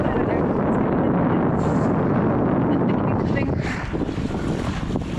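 Strong wind blowing across a beach and buffeting the microphone, a loud, steady rushing roar that fills the whole clip with only slight dips in intensity.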